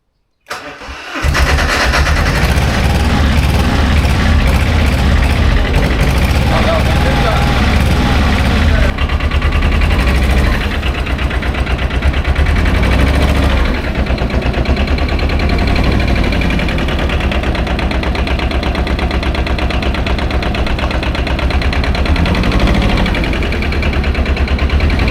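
A diesel engine on a farm cranks and catches abruptly, then settles into a steady, loud, close rumbling idle that runs on unbroken, with a slight change in tone partway through.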